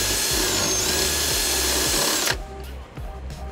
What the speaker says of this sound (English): We're gonna drill a half inch hole here.